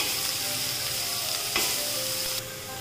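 Chopped onions frying in a pan for Punjabi-style rajma masala, a steady loud sizzle throughout with a brief stir near the middle, no talking.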